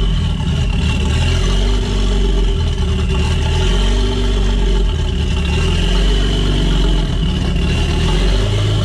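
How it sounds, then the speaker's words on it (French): A V12 bi-turbo engine fitted in a Traction car idles loud and close, its deep rumbling note rising and falling unevenly with sputtering pops, steady throughout without talk. "par contre au ralenti, elle monte, elle descend, elle pétoune."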